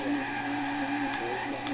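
In a Forza racing video game, a car spins out and its tires skid and squeal over a steady engine drone. A couple of sharp tire chirps come near the end.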